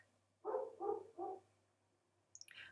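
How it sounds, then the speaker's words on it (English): A neighbor's dog gives three quick, fairly close barks in a row, followed by brief high clicking sounds, with nobody talking. "He just loves to bark all day and sometimes all night."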